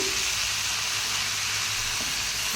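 Capsicum, onion, ginger and garlic fry in a pan for chili chicken, giving a steady, even sizzle and hiss that holds at a moderate level from start to finish with no talking.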